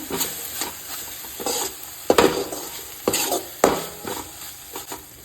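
Turmeric powder and ginger-garlic paste stirred in a pan for a Goan egg drop curry, a low constant sizzle punctuated by several loud, evenly spaced scrapes and knocks of a spoon against the metal pan, no voices.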